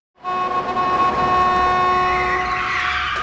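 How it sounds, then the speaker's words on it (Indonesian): A car passing through a parking lot in a film scene: steady engine and tire noise with tonal hum, loud and close throughout, rising slightly toward the end, no voices. "ada sebuah mobil yang lewat di parkiran"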